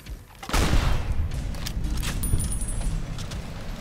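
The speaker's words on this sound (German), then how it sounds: "Und ich lade mal eben die Explosionsmunition ein." Explosive ammunition being loaded in Fallout New Vegas: a sudden metallic clack followed by a stretch of jangling, rattling mechanical handling, close and moderately loud.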